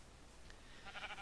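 A faint, distant sheep bleat from a video game rises briefly near the end of a quiet stretch, a single soft call with no voices over it.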